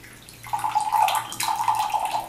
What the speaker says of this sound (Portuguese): com muito cuidado, você deve virar o que está dentro da garrafa para o copo